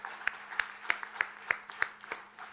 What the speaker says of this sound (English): you deserve a much, much bigger round of applause than anybody else